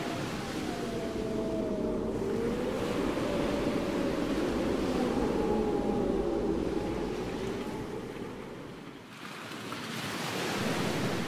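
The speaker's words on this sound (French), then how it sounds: "Le bruit du vent." Steady wind blows along the seashore with surf murmuring underneath, easing briefly before picking up again.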